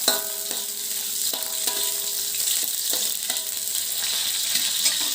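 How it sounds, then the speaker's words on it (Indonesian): Spices and cut lemongrass stalks sauté in a pan, producing a continuous close sizzle with intermittent spatula strokes, while a faint tonal background sound recurs in short spans. "Tumis sampai harum sebentar."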